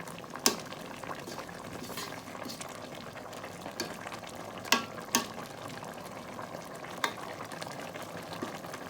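Fish pieces boiling in a pot of Thai sour curry (kaeng som), a steady low bubbling broken by a few sharp clinks and splashes, fairly quiet and close with no talk.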